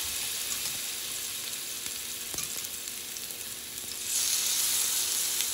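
Food laid into a hot skillet with olive oil gives a steady, dense sizzle close by, with a brief clink partway through and the hiss swelling louder near the end; no one speaks.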